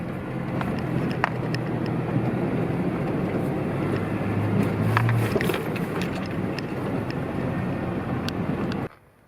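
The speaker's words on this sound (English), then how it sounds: "This last section of Corkscrew Gulch is always nice because you're just kind of driving through the woods, doing these little whoop-de-doos on the trail" A Toyota FJ Cruiser drives through woods along the Corkscrew Gulch off-road trail, giving a continuous low engine rumble mixed with wind and rattles from inside the cabin, then cutting off abruptly at the end.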